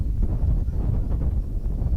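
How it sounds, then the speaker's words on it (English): Wind gusts buffet the microphone at an outdoor school Australian rules football match, a steady low rumble swelling and easing throughout with no voices. "Windy today, as we can see on camera."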